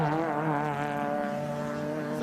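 A race car at Winton Motor Raceway sweeps through a corner, its engine a steady high-pitched drone with a sliding pitch, heard at a distance and fairly faint, likely with some tyre noise.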